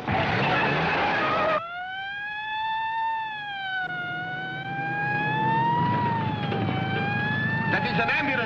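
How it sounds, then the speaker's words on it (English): An ambulance siren wails in long rising and falling tones, loud and close, in a 1962 film soundtrack, with traffic noise at the start and voices talking near the end. "That is an ambulance siren."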